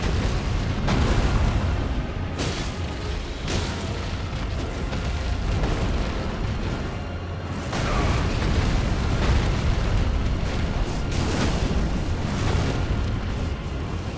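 Fire breath from a dragon in Elden Ring Shadow of the Erdtree roars as a loud, sustained blast of flame with surging whooshes and booming bursts at close range.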